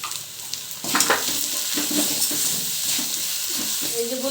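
Onion and potato filling for aloo paratha sizzles steadily in a frying pan, with scraping stirring strokes throughout and a brief voice at the very end.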